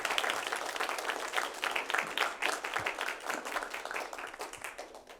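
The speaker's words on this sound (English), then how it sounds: "Can we please all give a round of applause to our guests?" Audience applause for guest speakers at an academic symposium, a moderate crowd clapping steadily with individual claps distinguishable, lasting several seconds at mid-level volume.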